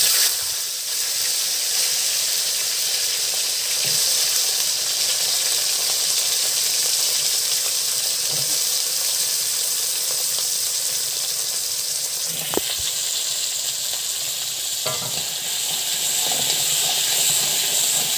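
Fish from a home pond frying in a pan, a steady broad hiss and sizzle running the whole time with a few faint clinks and knocks, no talk.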